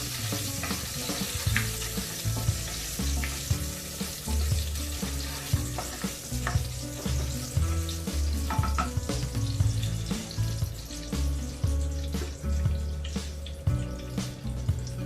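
Prawn malai curry with coconut sizzles loudly in a pan while being stirred, a dense continuous fry with frequent scraping and clattering of the utensil throughout.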